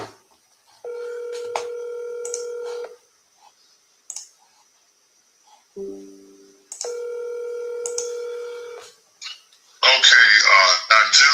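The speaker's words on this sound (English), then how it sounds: "Oh, I gotta call him on my cell phone." A cell phone plays dialing tones, two long steady tone sequences with short beeps and clicks between them, close and clear, followed by a burst of voice at the end.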